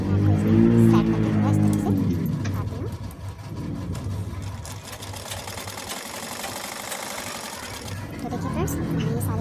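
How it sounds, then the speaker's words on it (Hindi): An electric sewing machine runs continuously as it stitches the sides of a blouse, a close mechanical whir with a steady rapid rhythm that eases slightly midway, while someone speaks over it. "अब हम इसके साइडों पे सिलाई लगा लेंगे सब तरफ"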